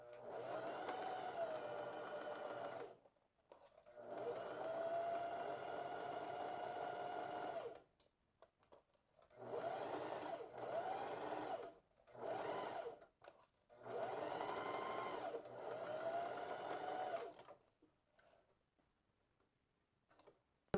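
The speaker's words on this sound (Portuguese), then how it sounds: "Alinho a minha agulha bem no início da pence e começo a costurar." A sewing machine stitches a dart in a blouse, running in four steady bursts of a few seconds each, with short pauses between them and no talking.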